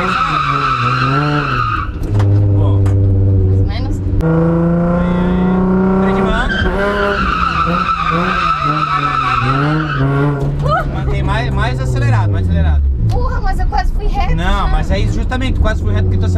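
A Nissan 350Z revs hard and skids with squealing tires during a handbrake drift attempt, the engine note climbing and falling repeatedly, loud and close throughout.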